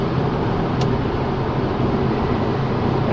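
A Mercedes CLK63 AMG accelerating hard, heard from inside the cabin as a loud, steady engine roar with road noise, holding a constant level throughout.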